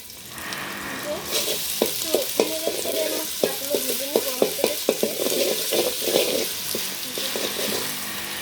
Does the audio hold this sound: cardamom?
yes